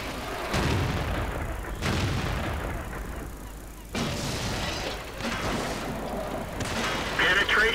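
Heavy artillery shots from a Bat-Chatillon 155 self-propelled gun in World of Tanks, several loud booming blasts spaced a second or more apart, each with a rumbling decay, no voices.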